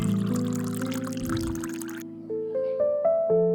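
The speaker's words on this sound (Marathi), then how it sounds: "अर्धा कप पाणी टाकायचं आहे" Half a cup of water is poured into a pot holding khichdi premix, a short close pour whose tone rises in pitch as the vessel fills, ending within a few seconds.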